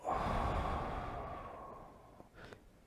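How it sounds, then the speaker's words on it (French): A single deep breath drawn in and let out slowly as a long, close sigh that fades, followed by a short second exhale near the end, heard alone with no talking. "Une respiration."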